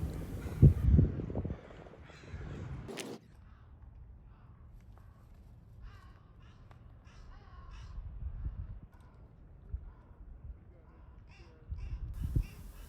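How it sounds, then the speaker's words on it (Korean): Crows caw on a spring beach across the bay from a city downtown, where they gather and crack clam shells; several loud caws in the first seconds, then quieter calls and soft footsteps over low background rumble. "가운데 있는 까마귀가 조개를 물고 왔습니다."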